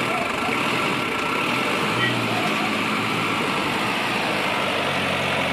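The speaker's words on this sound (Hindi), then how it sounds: "ट्रैक्टर तो बहुत ही जोर लगा रहा परंतु निकल नहीं पा रहा।" A Sonalika 750 DI tractor strains to pull a fully loaded, sunken trolley out, its diesel engine droning loud and steady at constant revs with a low rumble throughout.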